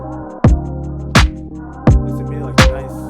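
A lo-fi hip-hop beat verse with a smooth, danceable groove plays alone, four loud punchy hits landing at an even pace over a steady, sustained harmonic bed of chopped samples.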